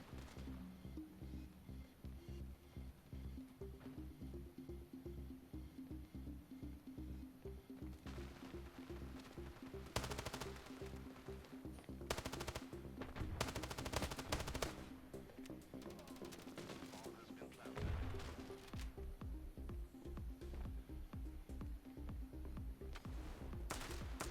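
Rapid bursts of gunfire from the shooter game Standoff 2 crackle repeatedly over a steady droning backdrop, with sharp loud volleys clustered in the middle and later stretches.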